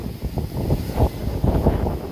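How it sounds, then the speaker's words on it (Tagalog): Strong storm wind gusts buffet the microphone outdoors near cows, a rough low roar with uneven surges throughout the short stretch, no talking. "Lakas ng hangin."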